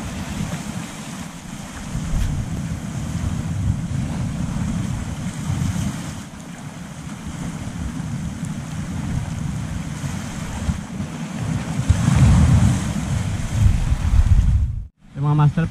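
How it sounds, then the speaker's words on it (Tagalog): Strong waves surge and break on a shallow shoreline in Palawan, Philippines, during shore casting, a continuous heavy roar with gusty wind buffeting the microphone and a brief dropout near the end. "lakas ng sampa ng alon."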